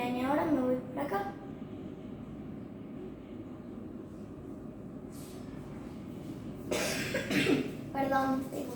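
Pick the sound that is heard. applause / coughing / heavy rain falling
coughing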